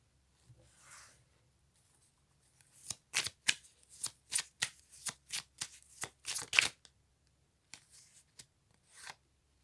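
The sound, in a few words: shuffling tarot cards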